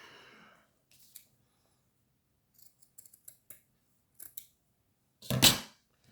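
Scissors snip paper while making a wedding invitation card: a few faint, scattered clicks and small cuts, then one louder, longer crisp snip near the end, close with no talking.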